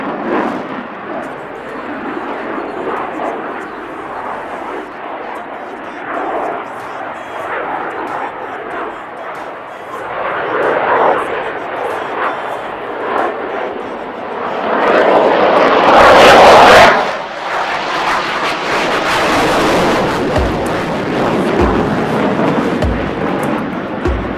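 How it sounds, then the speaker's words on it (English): An Indian Air Force fighter jet flies a tight minimum-radius turn at the Aero India air show, a loud sustained jet roar that swells and peaks in a thunderous burst before easing off. "Can you imagine such a fast aircraft carrying out such a short turn?"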